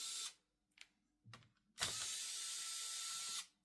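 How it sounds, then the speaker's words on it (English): Hinge screws being backed out of a Dell Vostro 3520 laptop with a driver, giving a few short separate mechanical clicks and ratcheting bursts, then a steadier whirring run lasting a couple of seconds, close up with no talk. "And then you need to unscrew the hinges."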